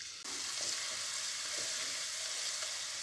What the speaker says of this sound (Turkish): Sarımsağımızın kokusu çıkana kadar kavurdum.